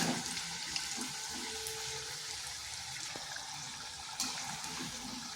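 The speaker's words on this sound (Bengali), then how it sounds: "এইভাবে নেড়ে চেড়ে ভেজে নিচ্ছি।" Semolina (suji) pakoras sizzle steadily in hot oil as they deep fry, a continuous hissing, crackling wash that stays even throughout with a few faint clinks of stirring.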